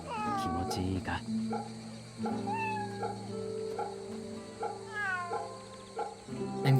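A cat in a samurai action video game meows several times in a row while being petted, with short rising and falling cries separated by brief pauses, close and clear.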